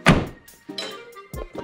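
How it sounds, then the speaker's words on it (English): A Lexus IS300 car door swings shut with a single solid, close thunk, followed by quieter rattles and small knocks as the panel settles. "So if I close this door"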